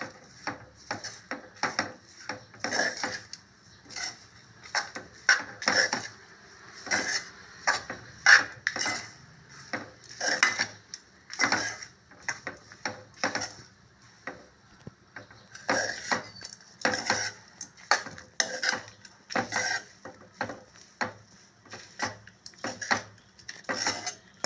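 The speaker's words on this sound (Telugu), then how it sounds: "మొత్తం ఒకసారి మిక్స్ చేయాలి." A spoon scrapes and clatters steadily against a pan while uggani is stirred and mixed with added chili powder, repeated close metallic strokes in an uneven rhythm, with no talking.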